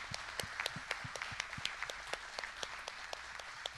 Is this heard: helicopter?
no